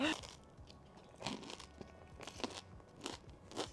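A hard, over-toasted air-fried croissant with French butter gets bitten, giving a few crisp crunches and crinkly flakes spaced across a few seconds, close and fairly quiet, with no talking.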